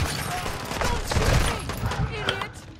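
Rapid pistol shots in a video game, a few sharp cracks fired close together amid busy game noise, with a voice talking over the action.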